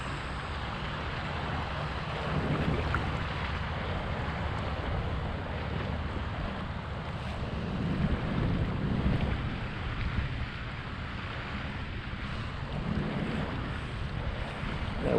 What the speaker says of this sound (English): Boy, here comes them waves.